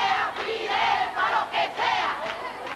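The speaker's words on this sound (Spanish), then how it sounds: "Abucheos y consignas a favor de Fidel y contra Estados Unidos silenciaban los gritos de libertad de las damas de blanco" A large pro-Castro crowd in Old Havana chants and shouts slogans, a massed roar of voices rising and falling in rhythmic waves, loud and close.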